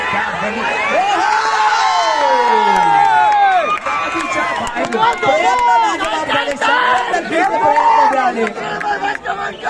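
A large crowd at a village kabaddi final cheers, shouts and whoops loudly, with excited voices, calls and chatter rising and falling throughout.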